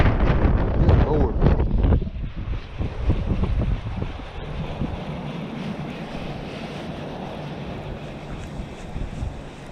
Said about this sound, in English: That wind gust there was crazy.